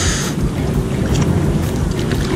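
Wind blowing across a lake during a fishing outing, a steady loud rush of wind buffeting the microphone, continuous throughout with no speech.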